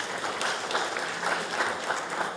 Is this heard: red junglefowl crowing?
no